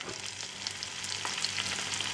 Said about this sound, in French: Je passe à la cuisson de mes champignons en les faisant revenir dans du beurre fondu